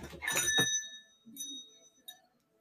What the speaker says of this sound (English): It's just another metal bell.